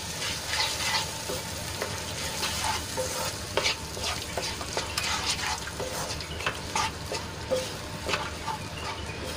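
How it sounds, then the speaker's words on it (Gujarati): Spice paste being stirred into onions frying in a pan, a steady sizzle with repeated scraping stir strokes and light utensil clinks, close and fairly quiet. "તો પેસ્ટને સરસ રીતે ડુંગળીમાં મિક્સ કરી લઈશું."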